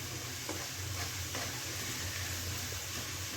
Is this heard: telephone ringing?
no